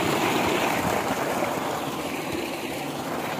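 Water from a solar-powered tubewell gushes out strongly in bright sunshine, making a steady, loud, broadband rushing that stays constant throughout with no talking.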